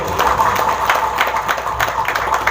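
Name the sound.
audience clapping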